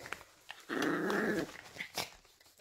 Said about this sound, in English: These are my friend Willow's new puppies.